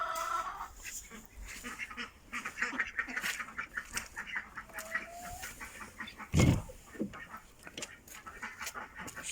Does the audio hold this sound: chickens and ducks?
yes